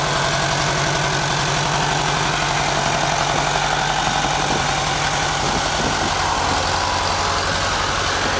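An old International 240 farm tractor engine idles steadily and loudly up close, a continuous low rumbling throb with mechanical vibration and no talking.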